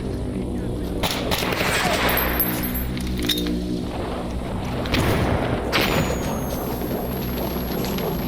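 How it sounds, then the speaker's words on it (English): Grenade explosion in the video game S.T.A.L.K.E.R., a heavy boom within dense, sustained rumbling gunfire and blasts that fill the whole stretch, loud and close. "that wasn't my grenade that blew me up"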